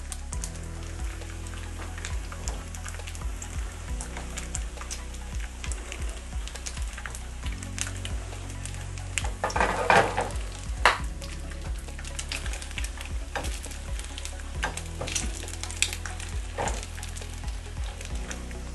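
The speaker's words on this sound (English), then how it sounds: "That's from the moisture in the meat bubbling out, boiling out of the meat" Soft, steady crackling and popping of bacon frying in a pan as moisture boils out of the meat, a continuous low sizzle with scattered sharper pops.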